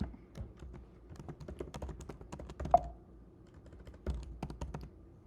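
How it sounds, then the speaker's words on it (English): Typing on a computer keyboard: irregular bursts of close key clicks and taps with brief pauses, plus one sharper thunk in the middle, with no talking. "Maybe I'm not typing right."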